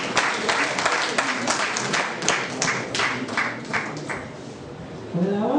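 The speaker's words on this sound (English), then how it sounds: "Another round of applause." An audience applauds at a paper presentation on environmental issues, a steady dense wash of clapping from a moderate crowd that gradually thins toward the end, with a voice beginning to speak over it.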